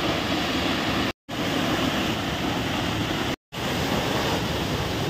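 A forest waterfall at Tiger Point in Mainpat, with water dropping about 60 metres, roars as a loud, steady broadband rush, broken by two brief gaps.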